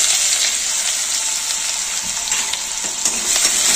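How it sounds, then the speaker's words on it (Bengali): Chopped garlic and onion fry in hot oil for chili soyabean, giving a loud, continuous sizzle and crackle with some stirring, close by and without talk. "গরম তেলের মধ্যে দিয়ে দেবো রসুন কোচানো, তার সাথে পেঁয়াজ কোচানোটা"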